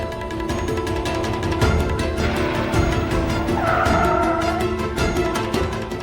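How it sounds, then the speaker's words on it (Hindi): A car brakes hard and skids to a stop on a road in a Hindi TV drama scene, with a steady loud engine rumble throughout and a rising tire squeal near the middle. No voices are heard. "अंशुमन जी, हमने कहा कार रोकिए"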